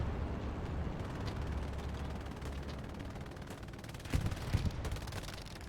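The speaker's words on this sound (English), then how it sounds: "Now with the artillery shelling in." Artillery shelling in a strategy video game: a constant low rumble of distant battle with two sharper impacts breaking through near the end.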